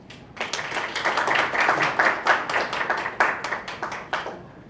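Forum audience applauding as a moderator is welcomed, a few seconds of close, fairly loud clapping with distinct individual claps, rising quickly and fading out at the end.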